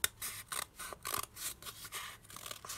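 Scissors snip steadily through a sheet of paper, cutting around a shape for an art project, with a quick series of close, crisp strokes and no talking.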